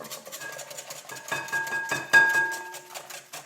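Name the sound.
whisking milk into eggs in a bowl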